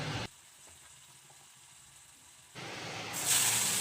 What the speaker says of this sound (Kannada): ಒಂದು ಬಾಣಲೆ ಇಟ್ಟು ಅದರಲ್ಲಿ ಕರಿಬೇವು, ಸಾಸಿವೆ, ಶೇಂಗಾ ಹಾಕಿ ಬೇಯಿಸ್ಕೊಳ್ತಾ ಇದ್ದೀನಿ.